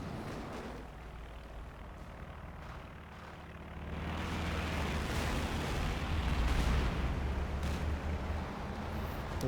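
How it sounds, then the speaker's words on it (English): Sector artillery barrage in Company of Heroes 2, heavy rumbling explosions swelling into a sustained loud roar from about the four-second mark onward, with no speech over it. "Comes another sector artillery."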